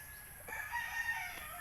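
Chickens in a backyard coop, with a rooster crowing faintly at a distance over a steady background hum.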